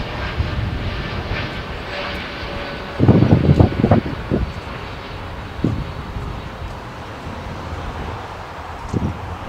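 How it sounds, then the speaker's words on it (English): An American Airlines airliner takes off from runway 25 right at LAX, heard from a distance as a low, steady engine rumble with a louder roaring swell partway through and a few fainter bursts afterward. "on 25 right is American Airlines Flight 1540 heading to Dallas, Fort"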